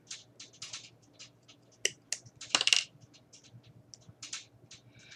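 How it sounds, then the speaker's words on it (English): Scissors snipping through craft material for a Halloween crown, a few sharp close clicks and cuts scattered among light rustling and handling noise, with no voices. "Now I'm going to snip this part off right here."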